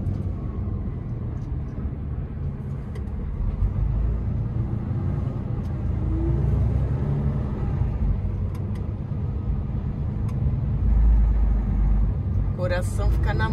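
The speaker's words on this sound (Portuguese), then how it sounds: "com esse monstrão de caminhão" A big truck's engine rumbling steadily while driving through tight streets, a deep continuous drone close by, with a person talking over it throughout.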